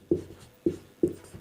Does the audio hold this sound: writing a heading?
yes